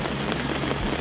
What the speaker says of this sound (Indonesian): Camping je hujan ni.